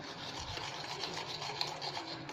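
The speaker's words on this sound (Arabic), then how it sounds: "دابا غنسرح العجينه" Cake batter being spread and smoothed in a baking pan with a spoon, a steady soft scraping and rubbing close up, with no talking.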